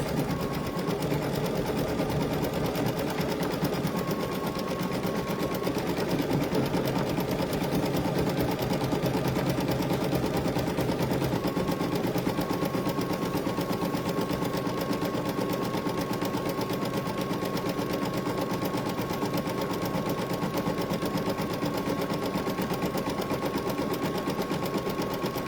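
A sewing machine stitches ribbon onto a t-shirt with a steady, continuous rapid hum and clatter, run at moderate speed and close to the listener throughout.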